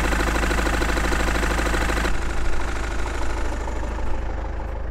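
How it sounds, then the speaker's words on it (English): A BMW engine, worn and sounding rough, idles in a loud, continuous throb with a steady pulsing rhythm, close up and without any voices. "it was finally time to investigate the BMW's engine, which was sounding a little worse for wear"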